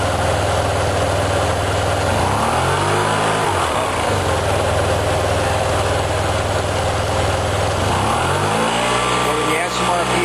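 A piston aircraft engine being tuned for balanced RPM during a 4000-mile checkup drones loudly and steadily, with slow pitch swells as the revs shift; a voice talks over the noise.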